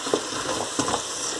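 Oil and fat sizzling in a pot while carrot stew is being started, a close steady frying crackle with a couple of soft stirring scrapes.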